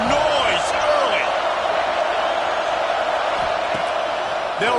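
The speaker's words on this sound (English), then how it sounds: "This crowd bringing the energy and noise early." Roaring stadium crowd noise in a college football video game, Auburn versus Ole Miss, a loud continuous wall of cheering and whoops with a commentator talking over it.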